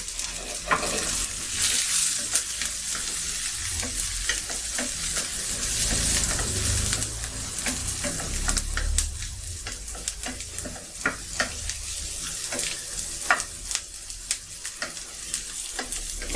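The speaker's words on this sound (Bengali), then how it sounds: "এখন আমি ভালো করে একটু ভাজবো" Green chillies and onion frying in a pan, a constant sizzle broken by frequent stirring scrapes and clicks of a utensil against the pan, close and fairly loud throughout.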